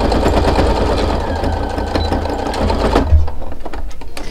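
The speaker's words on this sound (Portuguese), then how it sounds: "e agora eu vou fazer a costura do outro lado aqui" A sewing machine stitches a small baby bootie in the style of a country-style ankle boot, its motor humming with a quick rhythmic needle chatter, up close, briefly slowing and bumping near the end.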